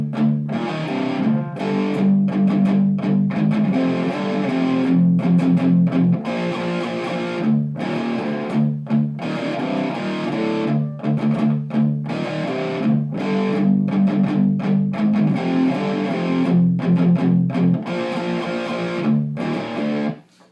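Distorted electric guitar chugs through a chorus riff, heavy low power chords repeating in a steady, loud groove for the full stretch with no talking.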